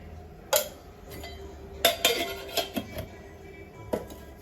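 A metal spoon clinks sharply against a pan while ghee goes in for vermicelli kheer, giving several distinct taps spread over a few seconds in a quiet kitchen.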